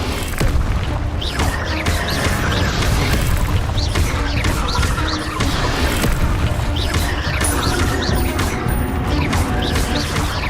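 Spell effects from the video game Hogwarts Legacy, played on hard mode, cast in quick succession as loud, dense magical bursts, booms and crackles over a constant game soundtrack, with mechanical clanks layered throughout.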